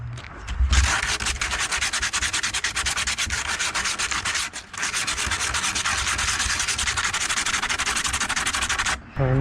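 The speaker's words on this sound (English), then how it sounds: "So now I'm sanding down the back side." Steady, loud abrasive sanding on the back side of a fiberglass Kenworth KW900 hood, a continuous close rasping rub with one brief pause midway, no talking.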